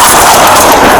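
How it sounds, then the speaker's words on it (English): Loud, close gunfire during a police incident, a dense burst of sharp reports packed into a single second with no voices. "800 Bravo, shots fired."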